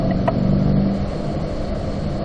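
A car accelerating hard on the Spring Mountain racetrack, upshifting into fourth gear, gives a steady, loud engine roar with a continuous rumbling drone throughout, the pitch holding fairly even with no voices.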